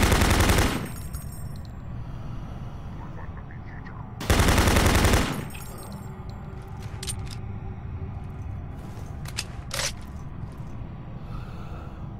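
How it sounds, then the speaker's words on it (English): Soldiers fire guns in Doom 3, with two loud broadband bursts of gunfire, one at the start and one a few seconds later, then quieter game ambience and scattered sharp clicks. "There's just some soldiers that's shooting at me."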